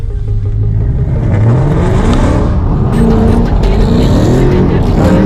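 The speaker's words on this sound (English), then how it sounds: "you will have to quickly counter steer and get back on throttle and maintain the throttle according to your counter steer to keep the slide going" A car drifting in donuts with its engine revving hard and steadily, loud and close throughout, with rising and falling engine tones and some tire noise, while someone talks over it.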